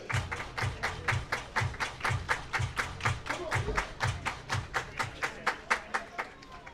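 A baseball crowd at an IBL finals game between the Welland Jackfish and Barrie Baycats claps in unison, a steady rhythmic beat of sharp group claps repeating about three times per second, fairly close and continuous.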